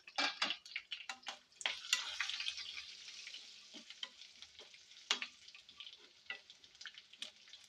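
Bursts of crackling and spattering from tempering spices and dried red chillies frying in hot oil, uneven and popping, close by with short quieter gaps.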